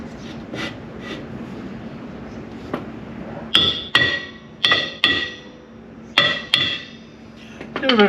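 A hammer taps on a trailer's brake hub to loosen it, a handful of sharp metallic strikes in uneven pairs ringing close over a low background hum, with no talking.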